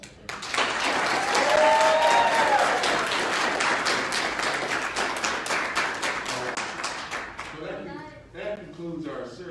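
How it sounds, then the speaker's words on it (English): Audience applause at an Army JROTC military awards ceremony, a loud sustained round of clapping that tapers off, with people talking as it fades at the end. "So another round of applause for her."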